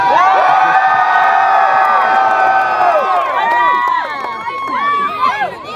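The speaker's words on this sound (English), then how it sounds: "Anyone who thinks the victor should be this puffy pants buffoon, give a cheer." A festival show audience at a Renaissance fair cheers loudly, a dense roar of shouts, whoops and high children's screams that holds strong for several seconds, then breaks into scattered excited yells as it tapers.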